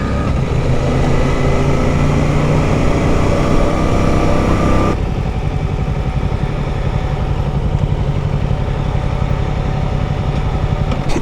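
A motorbike engine idles loudly and steadily up close, a rough continuous rumble with no voices over it.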